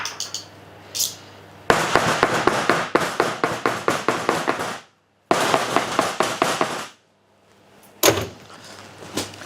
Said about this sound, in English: knock all that mixture out of there.